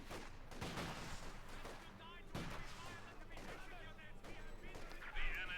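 Gunfire and explosions from a Company of Heroes 2 battle between OKW and Soviet forces, with steady crackling shots and booms running continuously under a commentator's talk.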